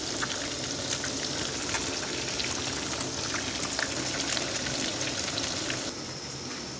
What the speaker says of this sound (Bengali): মাছগুলো ভাজার জন্য দিয়ে দিলাম।